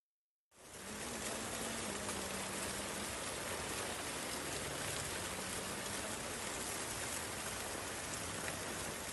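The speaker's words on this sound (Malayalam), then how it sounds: "മഴ പെയ്തപ്പോൾ രണ്ടത്താണിയിലെ വീടുകളിലേക്കും കടകളിലേക്കും ചെളിവെള്ളം കുത്തിയൊലിച്ചു വന്ന കാഴ്ചയാണിത്" Heavy rain pours in Randathani, Malappuram, as muddy water rushes into houses and shops, a dense, steady hiss of downpour beginning abruptly and continuing unbroken at an even level.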